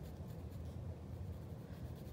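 Pencil shading on paper while drawing an eye, a soft continuous scratchy rasp of graphite strokes, close and quiet with no voice.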